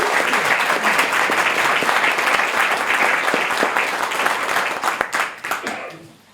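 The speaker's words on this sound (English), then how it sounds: "let's give us all a big clap" An audience at a bell ringing competition claps loudly and continuously, then the applause thins out into a few scattered claps and fades over the last second or two.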